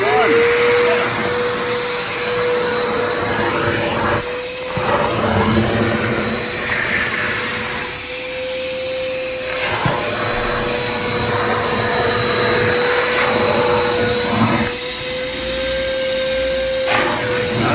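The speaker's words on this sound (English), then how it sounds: "so I've vacuumed off that carpet" A vacuum cleaner runs steadily over car carpet with a constant whine, its motor pitch dipping briefly a few times, loud and close.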